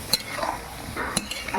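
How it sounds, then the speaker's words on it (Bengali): A spoon stirs mutton and fried spice masala in a pan, giving a few close scraping strokes with a light sizzle in between. "তো দেখুন এখানে মাটন কষা হচ্ছে, মশলা কষানো হয়ে গেছে"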